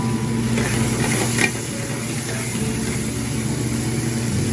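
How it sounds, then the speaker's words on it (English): Garlic cooking quickly in a pan for shrimp scampi fra diavolo, a loud steady frying hiss over a low constant hum, with one brief stirring clatter near the start. "see the garlic is cooking. Garlic is cooking really quick."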